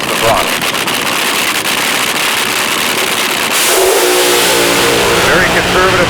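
A mechanically controlled drag racing car at a night drag event sits at a loud rough idle, then its engine note rises and shifts as it launches from the starting line, heard close under an announcer's commentary.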